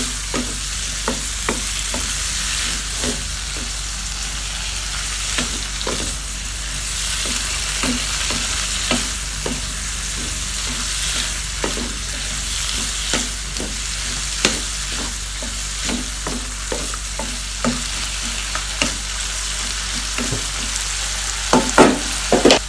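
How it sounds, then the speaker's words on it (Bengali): Vegetables for a tara sabzi being stirred in an oily, spiced pan: a steady sizzle runs throughout, broken by frequent scraping, clacking strokes of a spatula, with no talking. "তার জন্য ভালো করে নাড়ব কিছুক্ষণ"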